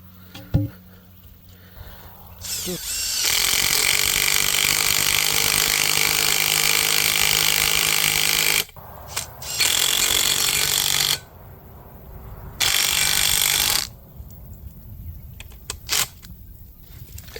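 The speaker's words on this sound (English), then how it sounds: "this is the VEVOR 52cc gas auger, and that's the wooden post we're going to put in the ground." A VEVOR 52cc gas-powered earth auger bores a post hole for a wooden post, its two-stroke engine roaring loud and steady, then cutting out and restarting in several bursts with quiet gaps between.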